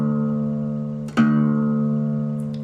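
A guitar in open G tuning sustains a low string, then a fresh pluck on the top string brings a sharp attack that rings out and slowly fades, heard alone and close.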